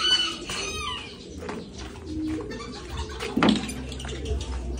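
Pet pigeons cooing around a water bath tray, soft repeated low coos near and far mixed with fluttering and splashing, with no talk.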